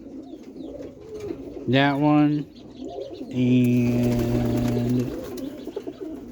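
Young roller pigeons coo nearby in two long, throaty bursts separated by a pause, with a faint voice and light rustling around them.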